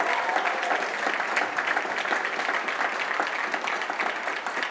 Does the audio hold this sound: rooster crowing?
no